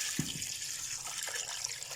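Water poured into a cooking pot of beef trotters (paye), a steady close splashing hiss with no talk over it.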